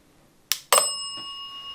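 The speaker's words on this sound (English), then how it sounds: "It's gonna ding and then it's gonna be done calibrating." A ghost-hunting device dings after finishing calibration, giving a sharp click followed by a bright, ringing bell-like tone that sustains and slowly fades in a quiet room.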